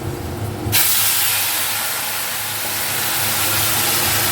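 Water poured into a hot pan of fried fish fritters for a fish curry sets off a sudden loud, steady sizzling hiss of steam that holds for several seconds with no one talking.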